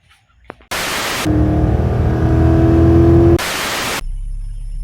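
A Nissan Altima's engine runs loud and steady on a test drive after a coil replacement, its tone rising as it picks up speed, with bursts of broadband noise at the start and end.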